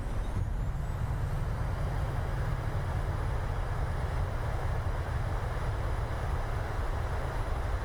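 Loud, steady roar of an airliner's thrust reversers on landing in Microsoft Flight Simulator 2020, a dense broadband rumble that holds constant throughout with no talk over it.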